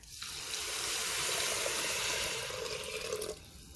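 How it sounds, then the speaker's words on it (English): Stock poured into an Instant Pot over translucent sautéed ingredients for plant-based halal cart chicken and rice makes a steady, close liquid rush lasting a few seconds, starting and stopping abruptly, with no talking. "So it's starting to look a little translucent, so we'll add our stock."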